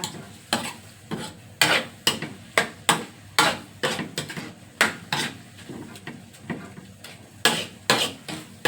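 Thai shrimp chili paste, seasoned with fish sauce, is stir-fried dry in a pan, with a steady rhythm of sharp spatula scrapes and clanks about twice a second over a faint sizzle.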